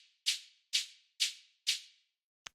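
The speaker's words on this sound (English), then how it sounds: "this one's just giving it that like shaker kind of texture." Softer techno hi-hat layer with a mid-range shaker texture, ticking four times in an even rhythm with short airy decays, then a faint click at the end; dry and alone.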